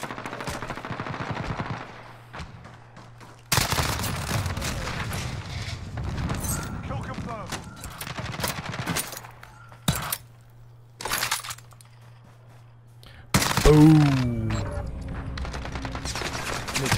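SMG fire in Call of Duty Warzone, a video game: repeated rapid bursts of automatic shots between stretches of quieter play, close and loud, with someone talking throughout.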